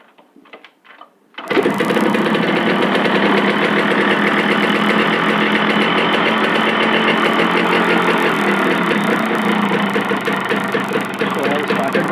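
A two-stroke motorcycle with an Autolube 2T oil pump is kicked into life after a second of quiet, then settles into a loud, steady, rattling idle that runs unbroken to the end.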